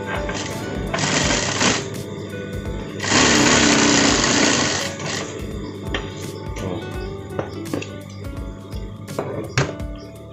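Sewing machine stitching the front pocket of a parka jacket, running in two loud bursts with quieter handling and clicks between them, no talking.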